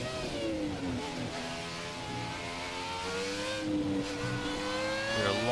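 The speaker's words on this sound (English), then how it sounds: "Screaming down hanger straight in sixth gear, over 300 clicks, 305, 310. Breaking into Stowe, fourth gear." An F1 2017 video game race car braking into Stowe corner at Silverstone: a close, continuous engine whine drops in pitch through the downshifts, then climbs again as the throttle comes back on.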